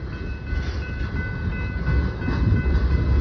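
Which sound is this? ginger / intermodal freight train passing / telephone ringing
intermodal freight train passing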